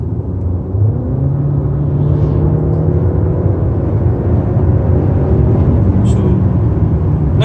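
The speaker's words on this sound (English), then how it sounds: "I give it some gas and listen to the turbo lag already" Hyundai Santa Fe with a 2.0L turbo engine accelerating from a 70 km/h cruise, a loud, steady low rumble that rises gradually in pitch, heard from inside the cabin.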